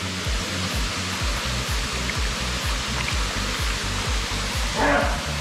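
Rushing water crashes continuously into a huge waterfall pool on Oahu, a loud, dense roar with rhythmic low pulsing, plus a brief voice near the end.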